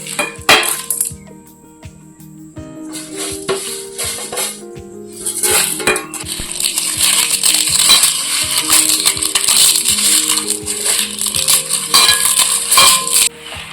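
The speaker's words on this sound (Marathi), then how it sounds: "डाळ टाकतो आता" Dry lentils (dal) tipped into a metal pan for a village-style spiced gram flour dish, giving bursts of loud rattling, clinking and crunching spills with brief pauses between pours, close and alone.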